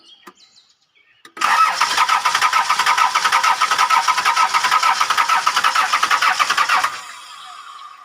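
A Toyota Townace with a 2C diesel engine cranks steadily for about five seconds with a loud, even starter rhythm but fails to catch, and the cranking then cuts off into quieter background.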